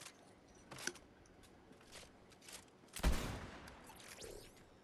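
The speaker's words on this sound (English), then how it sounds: "A warning shot." A single loud gunshot rings out in Fortnite, set near a snowy building. It is a sharp crack with a short decaying tail, preceded by a few fainter pops and distant in-game shots. No one speaks.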